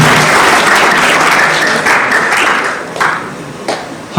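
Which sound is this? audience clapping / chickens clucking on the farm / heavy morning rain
audience clapping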